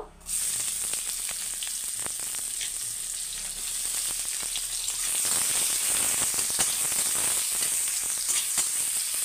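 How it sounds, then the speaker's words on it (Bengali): Chopped onions hitting hot oil tempered with black cumin seeds (kalo jeera), bursting into a loud, dense sizzle that swells and stays steady and close, with faint crackles scattered through. "পেঁয়াজ কুচিগুলো হালকা ভাজা হতে হবে।"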